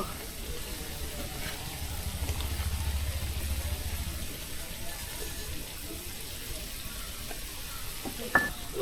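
Spices with turmeric and salt are sautéed in a pan, producing a steady sizzle and hiss with faint stirring scrapes, a low rumble in the middle and a sharp clink near the end.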